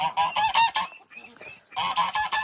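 A flock of geese honks loudly and rapidly nearby in a chicken courtyard in the morning, two noisy bursts separated by a brief quieter pause.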